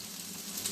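Onions sizzle steadily in a frying pan as they are stirred, a continuous close crackle and hiss with no voices over it.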